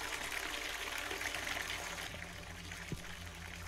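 A faucet runs continuously in the horror video game Visage, a steady splashing stream of water that stays close and fairly loud throughout, with low room hum underneath and a couple of faint knocks near the end.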